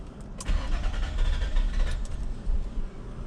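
2001 Nissan Maxima with a 3.0L VQ30DE engine cranks at length after sitting, a rapid, rhythmic starter churn close by with a brief catch but no full start.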